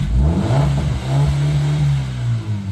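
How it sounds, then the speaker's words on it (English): A Porsche engine revs without its exhaust back box, rising to a loud, throaty, droning roar, then falling and rising again close by, with no talk. "Shall we see what it sounds like without a back box?"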